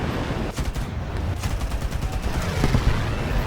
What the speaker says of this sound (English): I'll just fire off these last 2 rounds